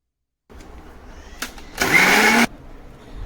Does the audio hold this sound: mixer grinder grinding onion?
yes